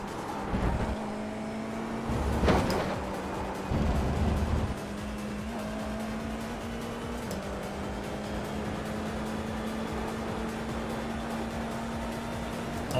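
Race car engines in the iRacing sim, a steady droning motor hum with a few louder bursts and shifts early on, then a constant engine tone holding to the end; no talking.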